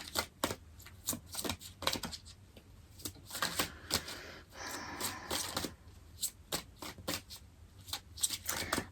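Tarot cards are shuffled in quick, faint riffling bursts, with soft papery flicks and brief pauses between them, quiet and close.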